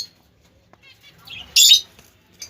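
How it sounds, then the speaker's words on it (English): Budgies in a home breeding cage give a sudden short burst of wing flapping near the middle, with faint chirps and light rustling before and after. "Now entering into another cage, we have seen two beautiful budgie babies are here, and the mother is sitting inside and the father is outside."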